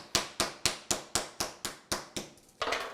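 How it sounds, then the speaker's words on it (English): Repeated hammer blows break up a 4-ounce bittersweet chocolate bar, about ten sharp, evenly spaced cracking knocks, close and fairly loud, with a heavier crunching hit at the end and no talking. "I'm going to hammer it out here and just break it up"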